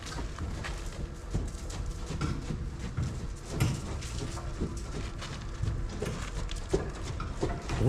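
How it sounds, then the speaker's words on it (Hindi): A horse exercised in a training arena in Rome runs hard, its hooves pounding out a quick, continuous clip-clop over steady background noise, fairly close and without talk. "ज़बरदस्त तरीके से भाग रहा है घोड़ा"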